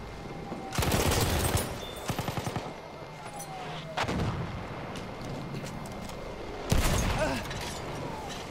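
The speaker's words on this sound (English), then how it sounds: "I'm hearing gunshots everywhere." Bursts of rapid gunfire in Battlefield 1, several volleys a few seconds apart, loud and close, with scattered single shots and a game-like mechanical background between them.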